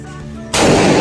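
A single loud Armalite rifle shot cracks out close by, the blast at mid-clip giving way to a sustained roaring echo and rumble.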